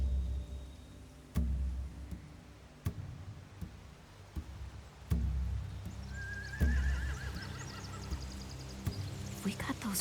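Horses in the video game The Walking Dead Season 4 whinny and snort amid sharp hoof clicks and thumps, a rising neigh standing out near the end over busy game ambience.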